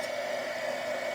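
A handheld embossing heat tool runs at a steady level, giving a continuous blower-like whoosh that holds even for its short run.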